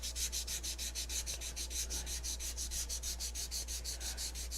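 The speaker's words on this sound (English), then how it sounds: "I'm just going to gently sand my lettering." An ultra fine sanding sponge gently rubbed over painted lettering in quick, even back-and-forth strokes, a soft rhythmic scratching heard close and quiet with no voices.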